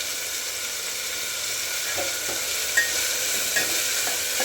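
Masala rice cooking in a pan with potatoes and cauliflower as tomatoes go in: a steady, close sizzle with a couple of soft stirring clicks over the constant hiss.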